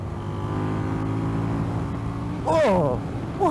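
An Indian FTR 1200 motorcycle being ridden, its engine droning steadily up close with a rising rev or gear change near the end, under wind rush.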